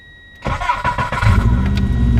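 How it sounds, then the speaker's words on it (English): Subaru Impreza GC8 with a knock-sensor fault cranks briefly and fires up, then settles into a steady, close, loud idle. "Turn the car on, fuel pump primes,"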